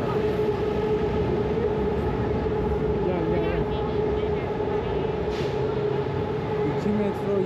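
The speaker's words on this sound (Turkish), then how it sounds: "Merkezden şimdi metroya bineceğiz." A metro train riding through Thailand in the evening, a steady rumbling hum of the moving carriage with a persistent tone, heard from inside with people talking over it throughout.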